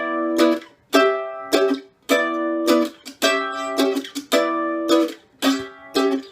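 Simple down-and-up acoustic guitar strumming of jazz grass waltz chords, close and clear, each chord ringing briefly before the next sharp stroke in an even repeating rhythm.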